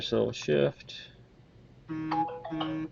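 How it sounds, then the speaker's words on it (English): A mobile phone notification goes off as a pair of steady electronic tones, each held briefly. It comes just after a short bit of speech and is moderately loud. "That was my phone going off telling me about that."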